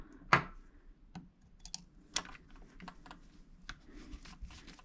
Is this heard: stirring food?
no